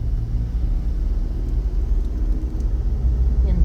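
A small Japanese kei truck drives along, its low engine rumble and road noise steady and fairly loud from close inside or beside the vehicle, with no clear voices.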